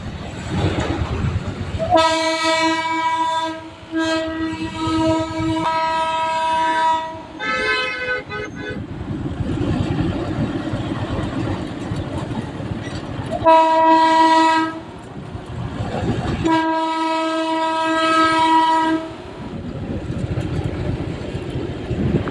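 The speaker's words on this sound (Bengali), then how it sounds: "টয় ট্রেনের সাথে আমাদের দেখা হয়েই গেল" A Darjeeling toy train sounds its horn in several loud, repeated toots, some long and some short, over a steady rumble of the train and road noise.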